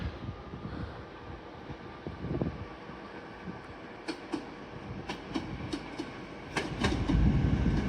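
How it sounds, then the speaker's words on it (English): TransPennine Express class 802 train arriving at a York station platform, a low rolling rumble with rhythmic wheel clicks growing stronger toward the end, light wind noise, no voices. "Arriving in now will be a terminating Transpennine Express 802 from Manchester Victoria."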